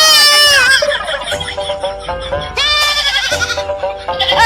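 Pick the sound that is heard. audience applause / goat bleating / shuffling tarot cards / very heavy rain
goat bleating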